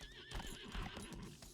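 A horse in the video game Lost Ark gives a whinny over soft clip-clop hooves, a brief close burst with no talk.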